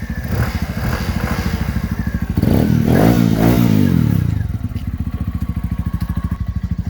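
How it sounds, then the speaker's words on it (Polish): A Junak M12 Vintage motorcycle with a tuned exhaust idles with a loud, throbbing exhaust, then revs up sharply, holds a roaring high pitch, and drops back to a lumpy idle, close up. "gazuj Junakiem 12 euro 5 227"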